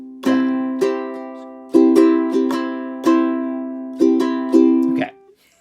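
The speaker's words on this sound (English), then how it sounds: "The way that we play the island strum is down, down, up, skip, up, down, up." Strummed string instrument playing the island strum pattern, a bright chord struck in an uneven down-down-up, skip, up-down-up rhythm, close and clear with each strum ringing before the next.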